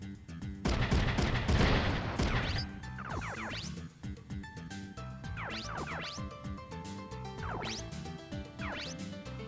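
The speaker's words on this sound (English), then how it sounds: "There goes his machine gun." Machine-gun fire in the mecha video game Front Mission 3, opening with a loud crash and then rattling bursts every couple of seconds over a steady game music bed.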